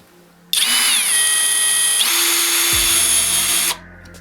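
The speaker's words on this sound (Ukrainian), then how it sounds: "давайте попробуємо, як шуруповерт працює з самим малим оснащенням, тобто чи буде спрацьовувати тріщотка" A Crown cordless drill-driver whirs loudly at high speed for about three seconds with a smallest bit fitted, its pitch dipping as the ratchet clutch engages, then winds down and stops.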